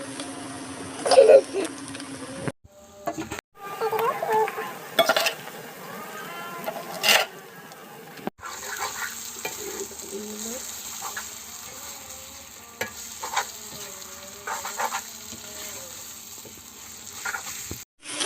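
Onions fry in a pan with cumin powder and red chili, giving a low, steady sizzle broken by scraping stirs of a spatula and a few short pauses.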